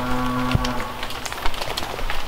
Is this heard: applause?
no